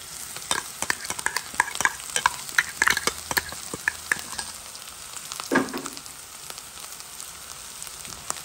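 Spoon stirring chili and ginger in a hot pan, irregular scraping clicks over a soft continuous sizzle of frying, close and clear with no talking.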